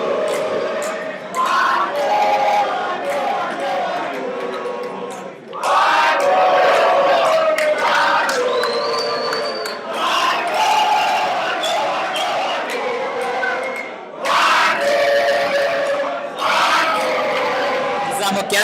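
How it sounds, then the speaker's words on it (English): A sports crowd at a match chants and sings in rising and falling waves, loud and massed, with several swells of voices and a commentator talking over it. "the crowd are singing one more. Everyone is up on their feet, they're singing one more."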